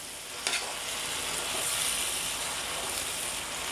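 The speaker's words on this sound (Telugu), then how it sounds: "గోంగూరను యాడ్ చేసుకొని కలుపుకోవాలన్నమాట మనము" Gongura (sorrel leaves) stirred into chicken frying in a pan make a loud, continuous close sizzle, with a brief scrape of mixing near the start and no voices.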